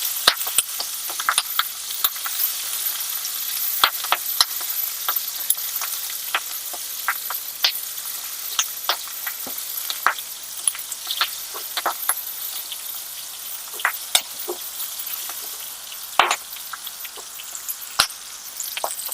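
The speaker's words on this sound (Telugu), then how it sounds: "కొంచెం ఆయిల్, కొంచెం ఫ్రై అయినాక" Gongura pods frying in a little oil for a pounded chutney, a steady close sizzle dotted with sharp pops and crackles throughout, with no voices.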